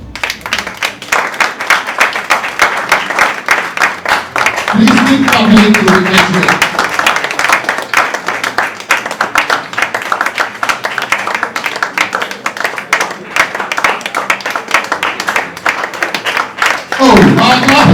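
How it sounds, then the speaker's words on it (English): Audience clapping at a book launch to welcome a couple, a dense sustained patter of many hands filling the room, with a voice speaking briefly over it partway through and again near the end. "let's welcome Mr. and Mrs. Plange with a clap"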